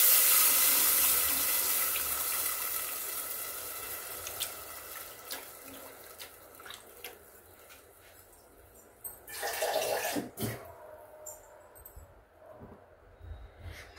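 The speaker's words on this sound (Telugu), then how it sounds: "పులుసు పోస్తున్నానండి." Tamarind extract is poured into a pot of softened tomatoes for tomato rasam, a steady liquid splash and trickle that fades over several seconds, followed by a few louder sloshes and clinks near the end, with no talking.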